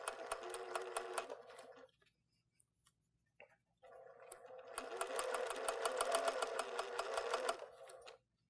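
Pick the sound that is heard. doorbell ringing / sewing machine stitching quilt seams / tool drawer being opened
sewing machine stitching quilt seams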